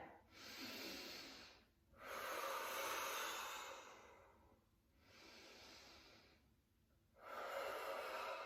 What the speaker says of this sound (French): vous respirez et vous faites la respiration ventrale